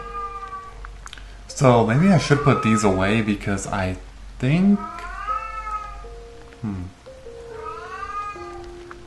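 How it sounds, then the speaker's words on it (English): Pet cat meowing repeatedly in the background, loud drawn-out cries with a rising and falling pitch that come in bursts across the clip, under and between a person talking close to the microphone. "my cat is going crazy in the background"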